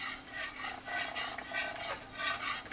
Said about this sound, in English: and you whisk it in.